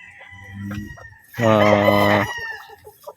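A young gamefowl stag rooster crows once, loud and close, after softer clucking and farmyard noise, with barely any other sound.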